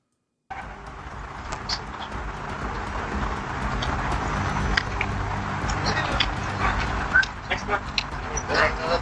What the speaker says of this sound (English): Big dogs in there.